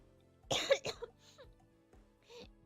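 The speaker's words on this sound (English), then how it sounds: "I'm coughing because I'm talking too much." A woman coughs close up, two sharp harsh bursts followed by softer throat-clearing coughs, quiet and isolated with no talk around them.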